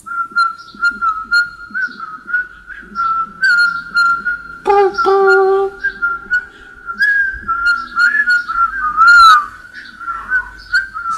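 A whistled rendition of the theme tune from the French TV show C'est pas sorcier: a clear, loud, continuous melody with brief ornamented runs, carried alone with no talking over it.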